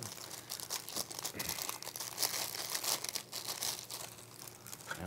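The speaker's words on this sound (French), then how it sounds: "Donc, on enlève le sac." Plastic bag crinkling and rustling as it is pulled off a new Fujifilm F800 compact camera during unboxing, close and faint, with irregular crisp crackles and no talking.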